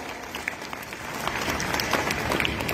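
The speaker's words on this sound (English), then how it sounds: "Please give them a huge round of applause." Steady applause from a crowd at a school student cabinet installation ceremony, many hands clapping together in a dense, continuous patter that swells slightly and holds throughout.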